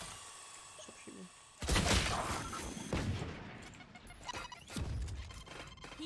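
Bursts of gunfire from the video game Valorant, a loud crackling volley starting abruptly after a quieter stretch and followed by further shots at mid distance, with occasional talk.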